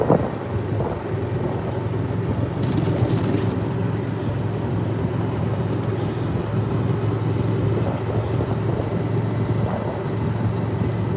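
A golf cart drives through The Villages, Florida, with a continuous low rumble of motion and wind noise from start to finish and no voices.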